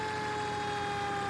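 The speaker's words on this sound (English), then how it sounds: "I think we'll definitely turn our siren off since we are not in any heavy traffic" An emergency vehicle siren in the Farming Simulator 17 fire rescue game sounds as a steady, continuous tonal wail at even loudness, with no talking over it.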